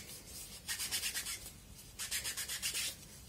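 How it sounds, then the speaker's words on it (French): A tool is rubbed over paper until the surface is covered, making soft, quiet, close rasping strokes in two quick bursts of rhythmic back-and-forth rubbing. "Alors je frotte jusqu'à temps que tout soit recouvert"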